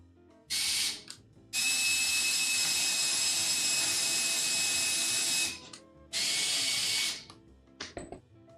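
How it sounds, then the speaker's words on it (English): A power drill drives a screw into a wooden board while building a stool: three bursts of high whining motor, a short one, a long four-second run and another brief one, then a few rattling clicks. "I do want to add a third screw going into this board"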